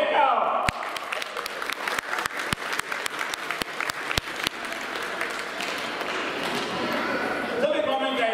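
Applause from a crowd at a youth U12 team award ceremony, steady clapping over several seconds with a few sharp louder claps standing out, continuous and moderately loud with some chatter mixed in.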